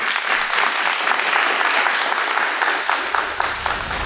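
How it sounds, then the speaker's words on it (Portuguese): Audience applause from a crowd, a loud, continuous wash of many hands clapping close by, holding steady throughout. "uma salva de palmas para vocês"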